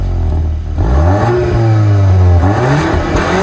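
A Volkswagen Golf R with a 2.0-litre engine, 315 horsepower and quad exhausts fires up and revs, its loud throaty note climbing and settling close by, alone without talk.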